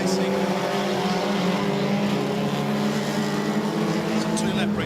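Junior sedan race cars restart at Darwin Speedway as a loud, continuous roar of several engines, with a race commentator talking over it.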